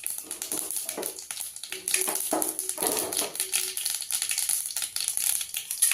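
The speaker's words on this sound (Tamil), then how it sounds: "கடுகு பொரிக்கிட்டு" Mustard seeds splutter in hot oil in a pan while Tamil cooking is under way, giving a faint, irregular crackling with scattered small pops over a steady background hiss.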